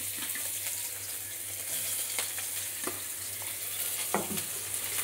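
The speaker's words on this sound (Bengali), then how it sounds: "এবার কড়াইয়ের তেলটা গরম হয়ে গেছে। এবার আমি দিয়ে দিচ্ছি পেঁয়াজ কুচি" Chopped onion hitting hot oil in a wok sizzles steadily for several seconds, with a few sharp clicks and scrapes from stirring, near and fairly loud with no talk.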